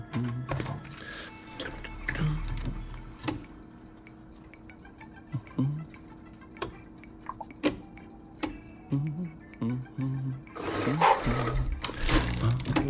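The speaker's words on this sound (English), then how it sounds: "I feel like my keyboard's gonna be louder than me." A computer keyboard clatters during a We Happy Few session, with sharp key clicks and small bursts scattered irregularly throughout, layered over a steady low background of game sound.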